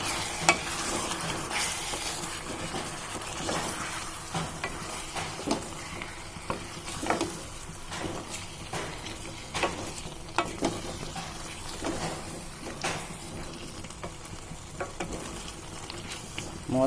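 Drumstick masala curry fries in a pan as coriander and pepper powder are stirred in. A continuous low sizzle sits under repeated scraping stirs of a spoon against the pan, coming in an uneven rhythm all the way through.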